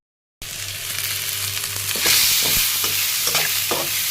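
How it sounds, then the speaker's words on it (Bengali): Onion and tomato fry and sizzle steadily in a pan, with a continuous loud hiss and occasional stirring scrapes and clicks, no voices. "টমেটো সব দিয়ে একটু হালকা ভেজে নিচ্ছি"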